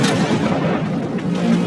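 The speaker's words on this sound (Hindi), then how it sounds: "पहला शॉट फायर करो।" A tank fires a shot from its main gun at a target range, a broad, heavy boom that rolls on as a dense, sustained rumble with no talk over it.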